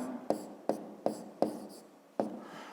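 Pen strokes tap and scratch on paper while segment names are written for a fifth-grade math exercise, five quick distinct marks in an uneven rhythm, close and fairly quiet.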